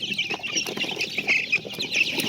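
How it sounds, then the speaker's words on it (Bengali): Chickens feeding in a poultry pen give soft, overlapping clucks and chirps, close and continuous, with faint pecking and rustling beneath and no voices. "তো দেখুন কীভাবে মুরগিটা খাচ্ছে।"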